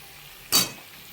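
A brief sizzle and stir of chicken and vegetables hitting a hot pan, one short burst rising sharply and fading within a fraction of a second over quiet kitchen background.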